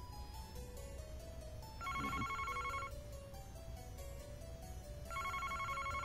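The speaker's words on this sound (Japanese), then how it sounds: "おや、電話が。" Telephone ringing in the Famicom Detective Club video game, a chiptune-style electronic bell ringing twice in repeated bursts over a soft background melody, no voices.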